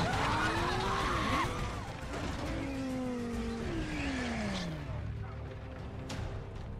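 A Lykan sports car in the GTA 5 video game drives and skids, engine revving with repeated rising and falling tire squeals, loud and close, fading to a steady hum near the end.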